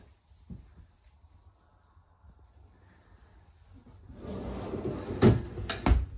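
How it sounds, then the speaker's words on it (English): Pull-out pantry drawers in a sheep camp are opened, quiet shuffling followed by a couple of sharp close knocks and a sliding rattle near the end. "And then we have our pull-out pantries."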